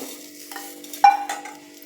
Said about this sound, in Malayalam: വറുത്ത സേമിയ ഞാൻ ഈ പാത്രത്തിലേക്ക് ഇട്ട് കൊടുക്കുന്നുണ്ട്